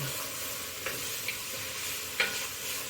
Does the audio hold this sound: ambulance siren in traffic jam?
no